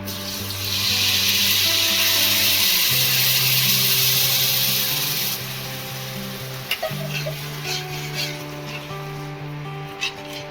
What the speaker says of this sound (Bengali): এবার আমি এতে অল্প করে জল দিয়ে দেবো।